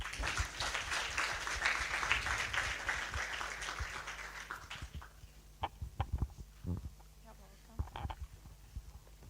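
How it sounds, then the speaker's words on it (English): Audience applause at a university summit lecture fills the first half, a dense wash of clapping that fades out around five seconds, followed by scattered sharp knocks and a quiet room. "So ladies and gentlemen, give us a round of loud applause for Mr. Omondi."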